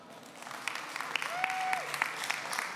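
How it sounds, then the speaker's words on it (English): Scattered audience clapping at a startup pitch event on an innovation stage, with individual claps standing out over a light applause bed and a brief whistle-like tone in the middle. "I want all of you to give all of them applause and clap your hands,"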